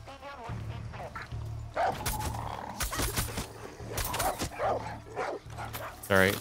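Dog barking in the video game Far Cry 6: repeated barks and yips come in bursts over several seconds, loud and close, mixed with game noise while someone talks.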